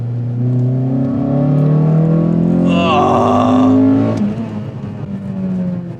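A 2002 Honda Accord Euro R drives by with a steady engine note that climbs as it revs up, peaks loudly, then eases back into a smooth cruising drone, close and clear with no talk.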